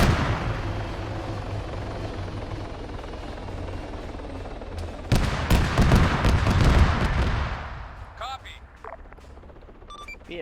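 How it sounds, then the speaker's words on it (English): Helicopter in a winter tank wargame video game: a loud rotor and engine drone that swells with a burst of gunfire and impacts near the middle, then fades into quieter scattered effects. "the heli that landed took a bit of fire, so they might need some logistics support"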